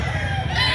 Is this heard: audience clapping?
no